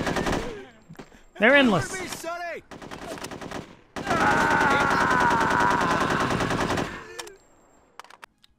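Machine gun fire from the video game No One Lives Forever 2, long sustained bursts of rapid automatic shots mixed with game sound effects, and a voice speaks briefly over the action.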